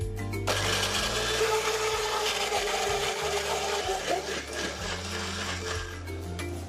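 An electric blender whirs steadily, grinding onions, galangal and lemongrass for a Malaysian dish, a loud motor drone with slight pitch shifts as the load changes, running almost the whole time.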